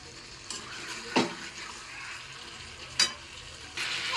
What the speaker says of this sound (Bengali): এবার আমি ভালোভাবে এগুলো সব মিশিয়ে নিচ্ছি